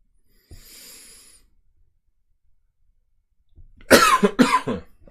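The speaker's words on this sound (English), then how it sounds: "I'm so sorry, guys, blasting you with this cough in the microphone." Coughing close into a microphone: a faint breathy rasp, a pause, then two or three harsh, loud bursts in quick succession, with no talking.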